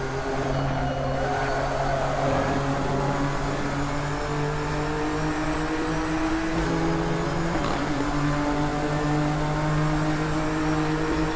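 A GT-R GT3 racing engine sound mod in Assetto Corsa, racing at Spa in a winter mod race, drones loudly and steadily throughout with slight pitch shifts, with no talking.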